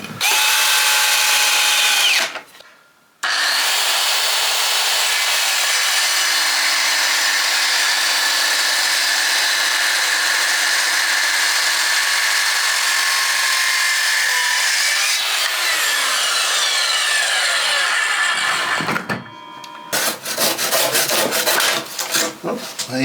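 Power saw cutting across a piece of oak, a loud continuous high-pitched whine with a brief pause early on, running steadily before stopping and giving way to scattered handling noises at the end.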